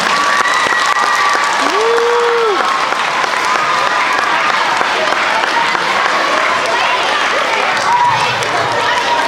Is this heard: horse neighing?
no